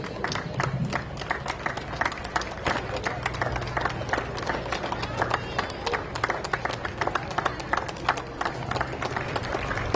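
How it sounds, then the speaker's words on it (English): Spectators at the 2017 Oktemberfest parade applaud passing veterans, a steady patter of many hands clapping across an outdoor crowd, with voices talking over it throughout. "a nice round of applause for all of our veterans and veterans organizations"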